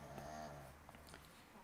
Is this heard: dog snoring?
yes